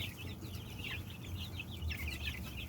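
Chickens cluck softly and repeatedly, a steady chatter of several hens at moderate distance, over a low continuous background hum.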